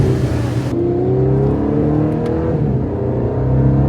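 A Lamborghini Aventador Roadster's engine revs loudly nearby, a strong sustained roar whose pitch climbs steadily, with a rising whine over a deep rumble.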